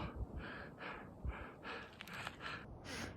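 Heavy, labored breathing at high altitude, about 5,000 m on an Everest Base Camp trek in Nepal, rapid in-and-out breaths repeating close to the mic in a steady panting rhythm, with no talking.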